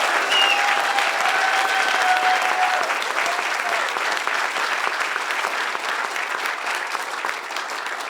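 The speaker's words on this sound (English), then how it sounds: "Let's give one more tremendous round of applause for our incredible student community." Sustained, loud applause from a large audience at a student award ceremony fills the whole stretch, steady and dense with a slight fade toward the end.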